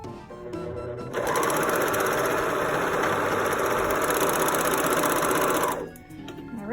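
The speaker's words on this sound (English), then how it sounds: "this is what my home sewing machine is" A home sewing machine stitching a fabric face covering runs in one loud, steady whirring burst of rapid mechanical clatter for several seconds, starting and stopping abruptly, close up with no talking.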